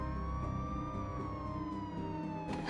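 An ambulance siren wails with a steady sweeping tone, loud and close, and traffic noise rumbles underneath.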